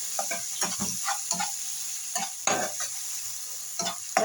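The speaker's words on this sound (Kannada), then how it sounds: "ಈರುಳ್ಳಿ ಮತ್ತು ಸ್ವಲ್ಪ ಶುಂಠಿ ಬೆಳ್ಳುಳ್ಳಿ ಪೇಸ್ಟ್ ಹಾಕ್ಕೊಂಡು ಈ ಥರ ಫ್ರೈ ಮಾಡ್ಕೊಳ್ತಾ ಇದ್ದೀನಿ ನೋಡಿ" Onion, tomato and ginger-garlic paste frying in a pan for chicken semi gravy, a steady bright sizzle broken by frequent scraping stirs of a spoon, close and fairly quiet, with no voices.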